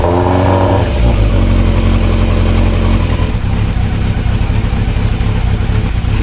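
A loud engine runs close by with a deep, throbbing rumble, its pitch shifting as it revs, continuous throughout with no talking.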